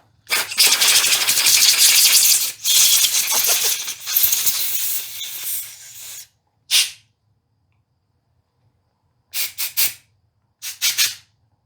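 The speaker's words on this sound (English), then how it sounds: "Let me go hit this with the air compressor again." Compressed air blasts hard through a small jet passage of a used generator's carburetor bowl, a long loud hiss for about six seconds, then several shorter separate bursts with quiet gaps between them.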